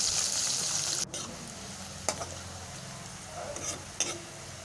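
Sliced onions and bay leaves frying in oil left over from frying eggs, a steady loud sizzle with a few brief clinks of a utensil against the pan.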